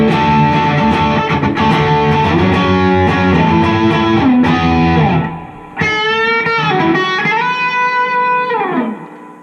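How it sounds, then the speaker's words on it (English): Fender Telecaster JV Modified 60's electric guitar played with distortion straight into a Marshall amp: loud sustained distorted chords ring out, a brief gap, then bright single-note bends and lead phrases that fade at the end. "Let's try a little distortion. Straight into the Marshall."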